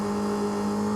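Steady, continuous motorcycle engine drone held at constant revs, loud and close, with a strong low hum and no talking.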